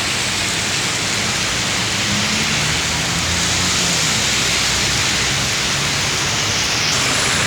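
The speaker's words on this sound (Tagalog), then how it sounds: "Lakas ng ulan." Heavy rain pours down in a dense, steady hiss, loud and unbroken from start to finish.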